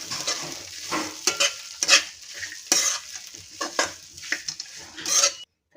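Poha, flattened rice, is stirred in a pan, a spoon scraping and tossing in irregular bursts over a soft sizzle, close and clear with no voices.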